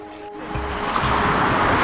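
Sea waves roll in at Pantai Sumur Tiga beach in Sabang, a loud, close, continuous broadband wash of surf that builds after a brief quieter start.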